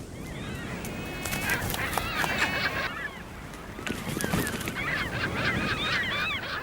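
Gulls calling along the Patagonian coast at Valdés, a loud, busy chorus of repeated harsh cries and squawks from many birds over a constant rushing background of wind and surf.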